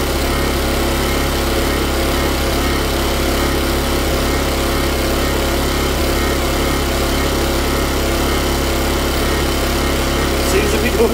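A petrol generator engine runs steadily on choke with a loud, even drone throughout, close up, and a brief knock near the end.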